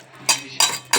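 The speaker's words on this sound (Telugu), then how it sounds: "ఇవన్నీ మంచిగా కలిసేలాగా కలుపుకుందాం." A spoon mixing prawn masala ingredients in a dish, heard as three quick scraping clinks in close succession, loud and near.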